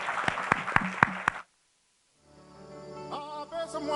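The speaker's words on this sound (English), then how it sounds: "So please join me in giving a warm round of applause to our panelists." A handful of distinct, evenly spaced claps ring out from a workshop audience applauding fintech panelists, stopping after about a second and a half; after a pause of silence, soft background music fades in.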